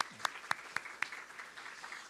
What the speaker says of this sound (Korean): 박수 하나 하겠습니다